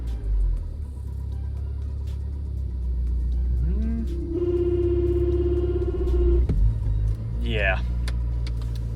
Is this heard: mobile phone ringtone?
no